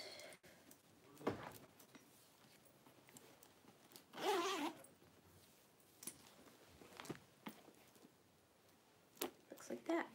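A zipper on a leather purse pocket is pulled open in one quick rasping burst, amid soft handling rustles and taps of the bag, close and fairly quiet.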